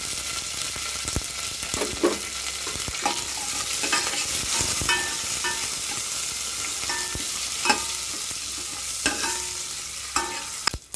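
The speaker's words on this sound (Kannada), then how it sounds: "ಎಲ್ಲ ಫ್ರೈ ಮಾಡ್ಕೊಳ್ಳೋಣ. ಸ್ವಲ್ಪ ಇಂಗು, ಒಂದು ಸ್ವಲ್ಪ ಅರಿಶಿನ ಪುಡಿ" Tempering of asafoetida and turmeric powder frying in hot oil for rasam: a steady, close sizzle with repeated scraping stirs of a spoon in the pan.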